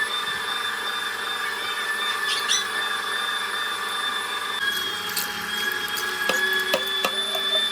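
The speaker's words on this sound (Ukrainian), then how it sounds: "Переміщаємось до нашої м'ясорубки та будемо мелити це все на фарш." An electric meat grinder minces chicken thigh meat with potato, running as a steady high motor whine with occasional squeals and clicks as it works through the mix, with no voices.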